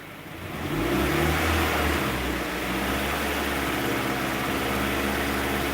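A Mazda MX5 engine is lifted off idle, rising in a quick rev and then holding at a steady fast idle, close and loud with a constant drone.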